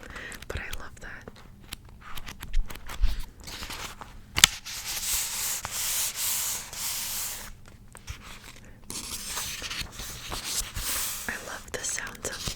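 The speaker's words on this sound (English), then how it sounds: "I love the sounds of flipping pages too." Book pages are flipped close to the microphone in a quiet ASMR setting, making bursts of papery rustling and swishes with brief pauses between them, interspersed with soft whispered talk.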